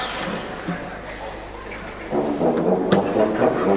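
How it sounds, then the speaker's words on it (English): Three brass basses, or tubas, from a youth brass band play deep low notes, quiet and rumbling at first, then a fuller, louder sustained low chord in the second half, with no talk over it. "We call them basses, and they sound like this."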